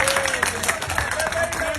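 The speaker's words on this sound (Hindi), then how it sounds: "मुझे मुदस्सिर के लिए प्लीज सारे तालियां बजाएं" A gathering of workers at an iftar at Zaman Park, Lahore breaks into brief, scattered clapping, with a voice speaking over the applause.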